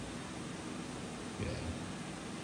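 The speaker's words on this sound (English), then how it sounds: "have an industrial dehumidifier." Steady broadband whooshing from a running industrial dehumidifier fills the background, with a brief spoken word over it.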